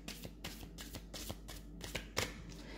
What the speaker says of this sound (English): So I am just shuffling the cards.